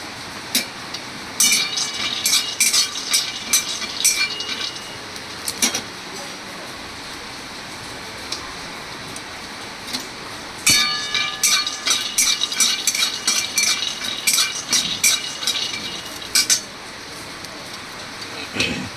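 Clattering metallic stirring of peanuts frying in a wok in two busy stretches, with a soft frying hiss underneath and quieter gaps between.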